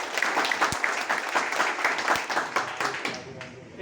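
Loud, dense applause from a seminar audience at a business plan presentation, steady clapping throughout that thins out near the end, with voices mixed in.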